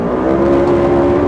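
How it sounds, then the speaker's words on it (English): A Polaris RZR XP side-by-side drives off-road, its engine giving a brief steady, loud, close drone. "let's take the RZR out for a rip"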